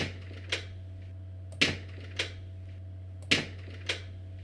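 Door sound sample used in a song, heard as a quiet series of sharp knocking clacks in an uneven rhythm with a few fainter taps between them, close, over a steady low hum with no voices.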